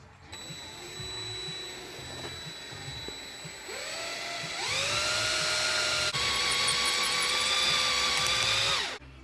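A 1/8 drill bit bores down through the center of a part clamped in a vise, a steady close whine that rises in pitch as the bit spins up and bites, holding high with a brief change before winding down at the end.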